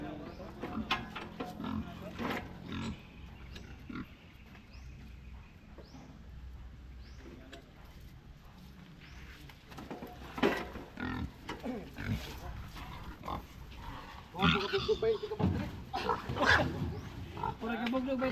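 Pigs squealing and grunting at a harvest weigh-in, shrill cries growing louder and more frequent toward the end, with people talking over the noise.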